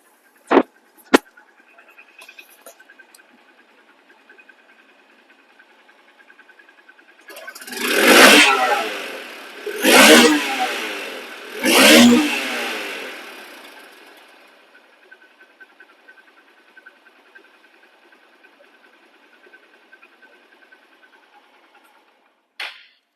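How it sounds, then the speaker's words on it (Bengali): A Honda Hunk motorcycle engine idles quietly, then revs hard three times in quick succession before settling back to a low idle. "এখন সাউন্ড কোয়ালিটি শোনাবো দেখেন সাউন্ড রানিং অবস্থায় আছে ইঞ্জিন"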